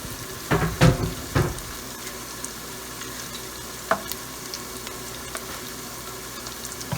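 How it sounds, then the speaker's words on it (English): Smothered turkey wings sizzle in an Instant Pot, with a cluster of loud, close scraping stirs early on, then a steady frying hiss and occasional small clicks and taps, and no voices. "Stir it around, get that well incorporated."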